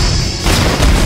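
A heavy, booming jutsu impact from Naruto Ultimate Ninja Storm 3 slams in loud and close, a deep continuous rumble with a second swell of force near the end, with no voices over it.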